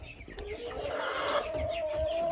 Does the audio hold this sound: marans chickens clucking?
yes